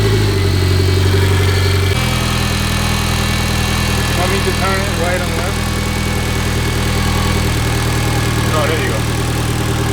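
A Mitsubishi Evo X with a swapped 4B11 engine idles steadily and loudly up close, with a slight shift in tone early on, while people talk over the running engine.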